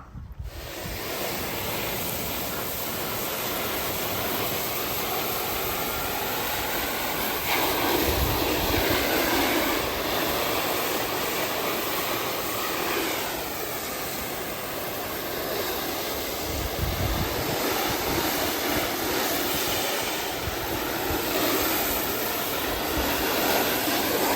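A pressure washer sprays a loud, continuous rushing hiss while rinsing mold off vinyl siding, a broadband roar that swells and dips slightly as the spray moves, with no talking.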